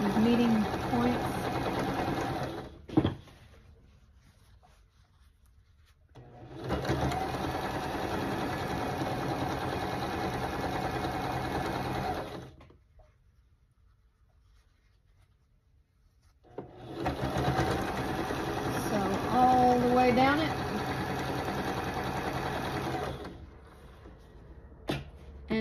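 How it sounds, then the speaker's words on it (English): Sewing machine stitching quilt half-square triangle units into a row: two steady whirring runs of about six seconds each, separated by quiet pauses. "I'm going to sew 6 of these together to make a row."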